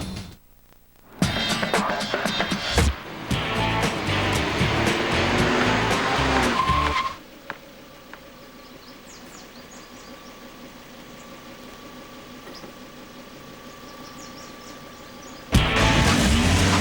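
A Volvo S60 in stop-and-go traffic gives a loud, busy burst of engine and tyre sound for several seconds, then drops to a quiet low hum before another loud surge near the end.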